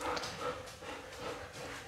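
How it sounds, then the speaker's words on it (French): A small dog barks in a few short, faint yips somewhere in the background, with no speech in between. "parfois les petits aboiements de mon chien."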